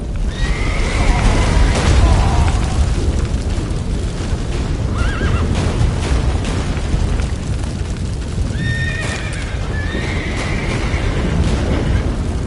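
Horse neighing in the video game The Witcher 3, loud whinnies heard twice over a dense rumbling backdrop of hoofbeats and booming effects, close and prominent.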